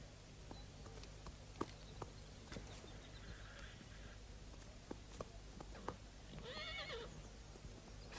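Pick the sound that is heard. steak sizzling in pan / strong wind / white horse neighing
white horse neighing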